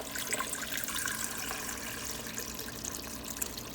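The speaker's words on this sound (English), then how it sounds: "I'm just putting enough ice water in just to kind of cover the butter." Ice water is poured into a bowl over homemade butter, a soft continuous splashing and trickling stream that is faint and close, with no talk over it.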